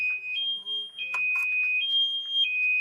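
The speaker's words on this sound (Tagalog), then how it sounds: "activate nyo lang yung alarm para in case na may gumalaw sa kanya ma'am, mag-a-alarm po siya" A RedKingdom electric bike's anti-theft alarm in Pampanga blares a continuous electronic tone that alternates between two pitches, steady and fairly close, with a few brief clicks and rustles mixed in.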